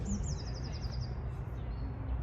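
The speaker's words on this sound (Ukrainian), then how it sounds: "І, звичайно ж, спів птахів." Birds sing in a botanical garden in Bratislava, a repeated rapid chirping trill in the first second followed by a faint thin note, set against a soft outdoor background hum.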